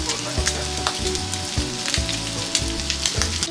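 Pork sizzles and fries steadily in a hot pan while being sautéed for green beans, with a dense crackle broken by periodic scrapes or stirs, close and fairly loud.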